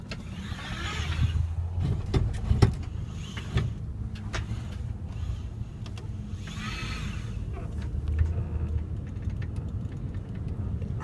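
A 2016 Honda Odyssey cruises around a block in a steady, moderate interior rumble of road and engine noise, with occasional soft clicks and brief hissy swells.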